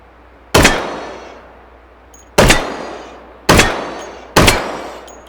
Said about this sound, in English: let's go and shoot those targets over there